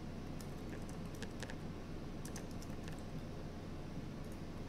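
Faint, rapid keyboard typing on a computer as a website name is entered, a scattered run of light clicks over a steady low background hum.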